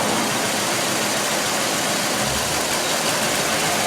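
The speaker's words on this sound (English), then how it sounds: "You hear that misfire got worse?" A car engine idles roughly with its number 3 spark plug unplugged, a loud, dense, uneven rumble with a noticeable stumble partway through, heard close and without talk.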